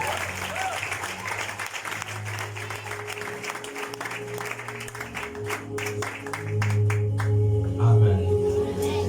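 A church congregation applauds and cheers for the Lord, a dense, loud wash of clapping that swells near the end, with voices mixed in.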